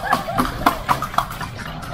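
Horse hooves clip-clop from a kalesa, a horse-drawn carriage, on a street in Vigan, with several sharp evenly spaced hoof strikes close by over faint background noise.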